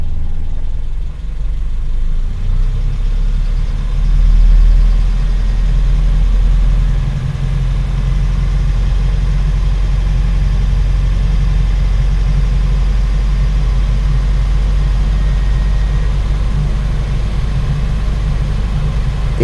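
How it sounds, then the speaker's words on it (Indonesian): Close and loud, a carbureted Toyota car engine idles at a raised speed to warm up. It makes a steady, continuous low rumble with only slight swells throughout, and no one speaks. "Saya tinggikan dulu RPM nya supaya agak lebih cepat panas mesinnya."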